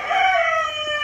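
A single rooster crow rings out close by, drawn out and strained, tapering off after about a second.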